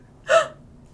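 A single short vocal burp, voiced by a person imitating a whale's belch, sharp and close, alone against quiet background.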